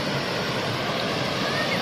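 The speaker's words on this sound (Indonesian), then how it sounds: "Dan inilah aliran dari air terjun Roro Kuning ini" Water from the Roro Kuning waterfall in Nganjuk, Indonesia, rushes steadily in a continuous broad hiss, like a fast stream flowing nearby, with no pauses.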